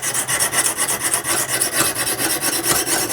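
A knife blade is drawn repeatedly across a Lansky extra coarse 70 grit sharpening stone, producing a close, loud, gritty rasping in rapid regular strokes, about six per second, with no talk.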